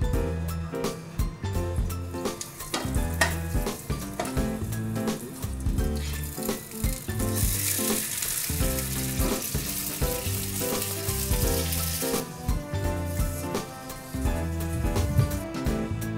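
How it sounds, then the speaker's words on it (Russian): Steady, loud sizzling of sea bream frying skin side down in a hot pan, crackling and spitting continuously with occasional louder hissing bursts. "Когда мы жарим рыбу, самое главное ее жарить всегда начинать со стороны кожи"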